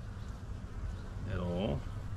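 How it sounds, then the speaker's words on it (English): Honeybees, nurse bees and foragers, buzzing in a steady low drone around an open hive frame, fairly faint, with a brief spoken voice over it midway. "These are all nurse bees and foragers."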